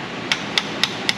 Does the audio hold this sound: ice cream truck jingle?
no